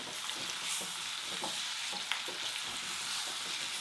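Carrots and other vegetables frying in oil for a ginger pumpkin soup, stirred in the pan with a continuous close sizzle and occasional soft scrapes and clicks of the utensil, no talking.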